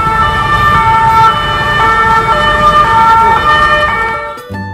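Loud wailing emergency sirens close by on a Paris street, several tones overlapping and rising and falling over street traffic noise.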